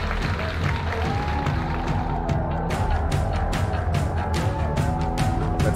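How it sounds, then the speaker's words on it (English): A large, loud crowd roars and claps at a gaming tournament event in Lyon, a dense wash of cheering and scattered applause with no single voice standing out. "Here you can see the crowd."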